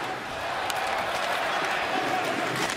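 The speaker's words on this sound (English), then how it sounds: "Crowd trying to encourage the Jackets here." Hockey arena crowd at a Columbus Blue Jackets home game against the Seattle Kraken, a steady, dense roar of cheering and clapping filling the building without letup, with no one speaking over it.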